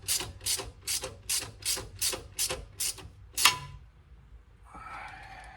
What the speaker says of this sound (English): the long extension bar with the regular ratchet. We're just gonna snug it up right here for just a second.